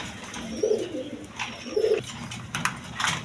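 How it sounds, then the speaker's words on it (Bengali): Racing-homer pigeons in a loft give two short, low coos about a second apart. Faint chirps and a murky background hum run beneath them, and the coos sound soft and moderately close. "একদম কোয়ালিটি সম্পন্ন কবুতর মাত্র তিন হাজার টাকা"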